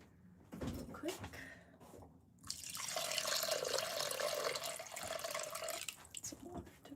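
Water splashes and runs onto spinning clay on a pottery wheel, a steady wet hiss and trickle rising after a couple of quieter seconds of drips and handling, close and fairly loud, with no talking.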